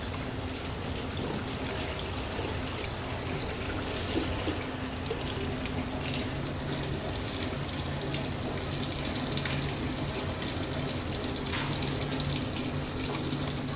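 Tap water runs steadily over farro grains being rinsed in a sink, a constant close rushing splash with no breaks and no voices.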